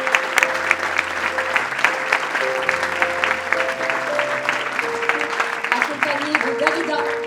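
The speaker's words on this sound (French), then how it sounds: "notre présidente, sous vos applaudissements, Anouk Grimbert." Audience applause fills a closing ceremony hall, steady and sustained throughout, with music playing underneath the clapping.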